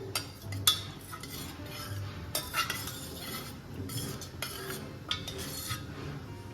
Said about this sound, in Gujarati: તો આ રીતે આપણે ચમચાની મદદથી થોડું થોડું પ્રેસ કરી લઈશું.